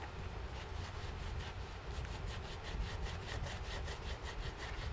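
A 3M scuff pad scrubs a thick, sticky, gummed-up coating off interior dash plastic in a Lexus IS300, giving quiet rhythmic back-and-forth rasping strokes, close and faint, with no talk.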